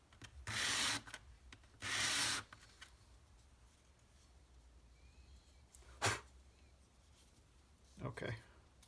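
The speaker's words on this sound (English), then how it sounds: "So I'm just going to attempt to face it with some sandpaper." Sandpaper rubbed against the casting flash on a vintage Hubley P-47 Thunderbolt toy plane gives two close, steady scratching bursts of about a second each, then quieter single rasps later on.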